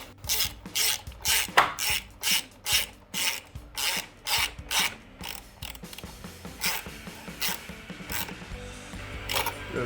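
A ratchet wrench tightens an 11mm bolt on a car's cold air intake, giving a close, rhythmic series of rasping clicks in even strokes that speed up and soften toward the end.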